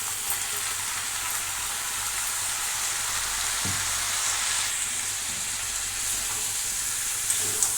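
Spice paste for a homemade pickle sizzles steadily in a hot pan, a continuous close-up crackling hiss with no talking.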